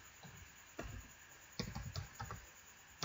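Typing on a computer keyboard, entering a search into Google: soft, close clusters of key taps in short uneven bursts with pauses between, and no talk.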